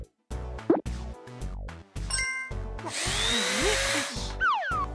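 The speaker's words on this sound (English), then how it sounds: "Phew! I unscrewed all the screws." Cartoon tool effects for unscrewing the screws on a broken excavator arm: a quick run of plops, boings and whirring power-tool bursts, bright, close and playful, with no talking.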